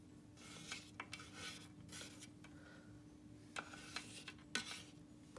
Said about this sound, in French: Donc je vais racler un petit peu les bords.